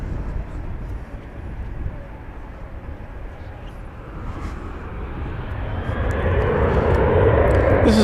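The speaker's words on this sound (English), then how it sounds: "It's going to Bozeman, Montana. 737-800." An American Airlines Boeing 737-800 jet at DFW Airport roars steadily louder, building from a distant rumble to a strong close pass by the end, with faint talk in the background.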